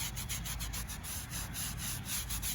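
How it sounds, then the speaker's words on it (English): Stiff brush scrubbing dirt off a flat stone grave marker, a quick steady run of rough back-and-forth strokes, close and fairly loud, with no voices. "scrubbing it because I want to get the dirt off of it"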